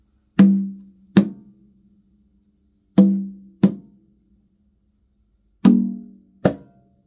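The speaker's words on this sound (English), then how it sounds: "these are just touches. They're not open tone, they're just what we call" Muted tones played with the fingertips on hand drums: six short, damped strikes in three quick pairs, separated by pauses. The strikes are close and clear, with no talking.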